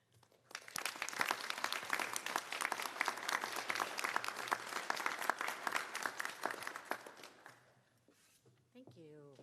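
A crowd claps through a Louisiana bar swearing-in ceremony for Loyola law graduates, with sustained applause that begins abruptly and holds steady. It then tapers away, and a voice speaks briefly at the close.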